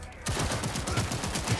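Rapid gunfire in the video game Cyberpunk 2077 during a street firefight, a dense continuous fusillade of shots kept up loud and steady throughout.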